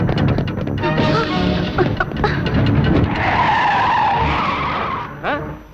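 A car whips around with tires screeching and skidding, a loud sustained squeal rising over engine noise for several seconds before tapering off.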